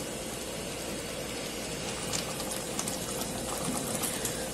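Tomato sauce with calabresa sausage cooking in a pressure cooker, giving a steady close bubbling and simmering hiss throughout with small pops and no voices.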